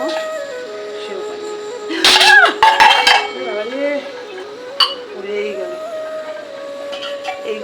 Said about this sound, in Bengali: এই বাটিগুলো না খুব বাজে খালি বসালেই পড়ে যায় ব্যালেন্স থাকে না পড়ে যায়